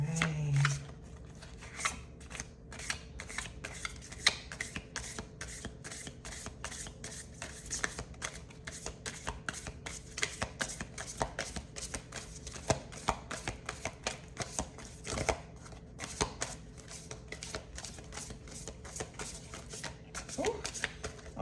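Tarot cards are shuffled near the microphone, a long series of soft riffling slaps and flutters in irregular bursts, with occasional quiet speech between them.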